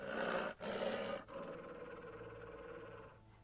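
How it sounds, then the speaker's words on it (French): A dog in The Witcher growls low and rough, a loud sustained rumble broken by brief pauses, close and alone without talk. "Je jurerais que ce chien cherche quelque chose"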